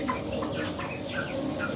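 Chickens in a small poultry business cluck and murmur continuously at close range, several birds overlapping in a busy, steady chorus with no talk.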